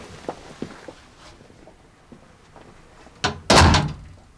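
An indoor door is pushed shut with a loud thud near the end, after a few light knocks and footsteps, heard close by with no talking.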